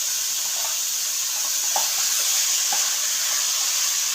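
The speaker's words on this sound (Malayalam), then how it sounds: "കഴുകി വൃത്തിയാക്കി വെച്ചിരിക്കുന്ന ചിക്കൻ ചേർത്ത് കൊടുക്കാം. നല്ലതുപോലെ ഒന്ന് മിക്സ് ചെയ്ത് കൊടുക്കാം." Chicken for a stew is sautéed in a pan, with a steady close hiss of frying and a few faint, scattered stirring scrapes underneath.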